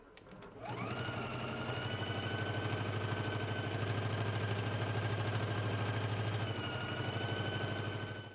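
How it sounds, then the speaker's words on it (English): A sewing machine runs in one continuous burst, stitching lining to facing at a 5/8 inch seam allowance, a close steady motor whir with rapid needle rhythm that starts and stops cleanly. "let's stitch at a 5/8 of an inch seam allowance"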